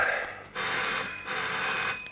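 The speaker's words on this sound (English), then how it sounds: "Then a telephone started ringing inside one of the offices." A telephone bell rings inside an office in a radio drama sound effect, two loud, steady electric rings separated by a brief pause.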